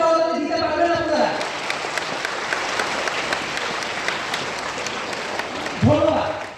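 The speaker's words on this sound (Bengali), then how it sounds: "আপনাদের বাবা মায়ের উপযোগী কি একটা জোরে করতালি দিতে পারবেন আপনারা?" An audience at a talk in Chittagong breaks into loud, sustained applause lasting several seconds, with a voice speaking just before it starts and again as it fades.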